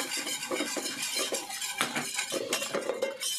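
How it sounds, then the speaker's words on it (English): Flour being whisked into melted butter in a pan for a Mornay béchamel sauce: a close, busy run of metal whisk clinks and scrapes against the pan, fairly soft and continuous. "so we're gonna take our flour, just kind of whisk our flour into it"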